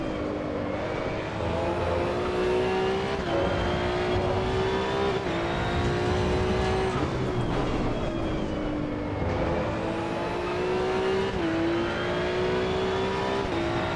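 A Maserati GT2 race car engine in Assetto Corsa EVO drones loud and close throughout, revving up through the gears in rising sweeps, each climb broken by a brief dip at the shift.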